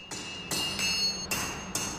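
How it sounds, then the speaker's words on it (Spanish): Hammer blows on a red-hot steel bar being forged into a sword, four sharp ringing metallic strikes at uneven intervals, each with a bright lingering tone, fairly close and alone. "A golpe de martillo, la vara de acero incandescente se moldea."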